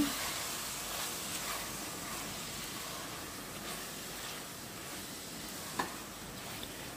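A potato and pea curry (aloo matar) being stirred in a pan: a soft, steady sizzle with faint, even scraping heard close but quiet throughout, with no voices.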